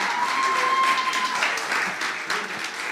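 Congregation at a church service applauds the worship group, a moderately loud wash of clapping with a brief sustained tone and some murmured voices mixed in.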